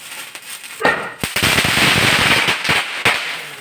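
Diwali firecrackers going off at a family home, with loud sharp bangs and crackling pops in quick succession, some sharp reports standing out from a dense burst of explosions.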